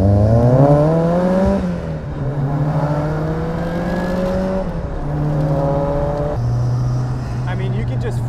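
A Lancia Futurista rally restomod driven hard along a twisty California road, its engine revving up and down through repeated gear changes, loud and close, with voices talking over the engine.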